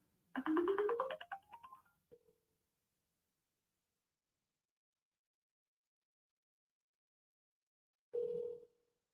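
An outgoing phone call plays a rising ringback-style tone, then a short gap, silence, and one more steady beep near the end before voicemail, heard alone and fairly faint.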